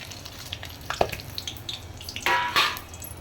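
Dry chili, whole garam masala, cumin and bay leaf hit hot oil as a tempering for a Bengali mutton bhapa, giving a faint sizzle with scattered crackles that swell into louder spitting bursts toward the end.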